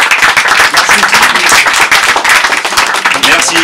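Crowd at a Badefols d'Ans autocross gathering claps for Jérôme, a partner who builds metal frameworks, a brisk close burst of hand clapping that runs loud and dense for a few seconds.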